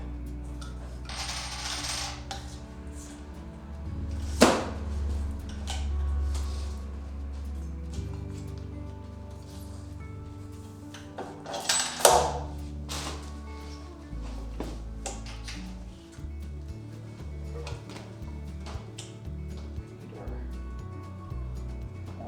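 Metal washers and a nut clinking and tapping while a Cobra Class 26 cylinder arm sewing machine is assembled, with scattered metallic clicks and a sharp ring or two against a low hum.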